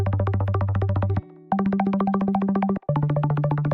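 A buzzy synthesizer preset pulses in rapid, evenly repeating notes over a sustained bass tone that shifts pitch three times, with brief gaps between sections; close, bright and without voices.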